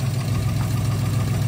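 A 1958 Lancia Aurelia B20 GT's aluminum V6 idles steadily up close, a continuous low, even engine rumble with no talking over it.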